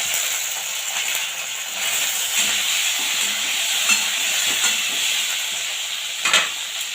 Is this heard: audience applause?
no